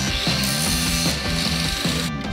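A corded power saw cuts through wood, its motor drone rising and falling in repeated strokes that form a steady, close, loud grinding rhythm with no talking.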